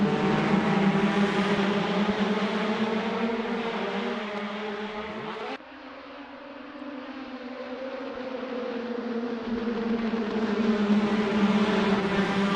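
Caterham 420R race cars racing at Oulton Park, a steady loud engine drone with a strong harmonic whine that dips briefly as a car passes, then builds again as the pack holds its pace.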